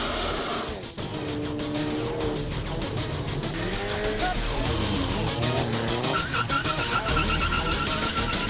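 An Audi RS4 B5, the first model year, drives hard with a loud, steady engine note that rises and falls, and its tires squeal and skid over the engine.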